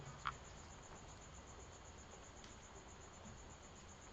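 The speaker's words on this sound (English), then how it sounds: "my crickets are back! There's a cricket in here" A cricket chirps indoors from behind a kitchen fridge, a faint, steady high-pitched trill with even pulses running through the whole stretch, with no one talking.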